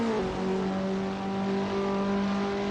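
Race cars accelerate around Imola in a Skip Barber Championship video game race, a loud steady engine drone with a rising whine holding throughout, no talking.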